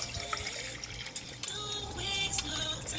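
Water runs from a tap into a pot for rice in a home kitchen, a soft, steady splashing stream with small gurgles, quiet and close.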